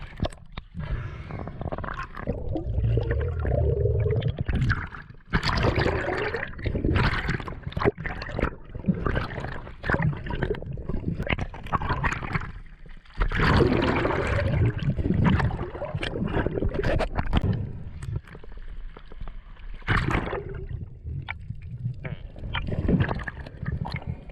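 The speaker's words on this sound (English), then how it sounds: "I thought I would swim the boat through this narrow channel to the outer reef" A small boat pushed by a swimmer through a narrow, shallow reef channel, with irregular splashing, sloshing and gurgling water close up, in bursts and lulls throughout.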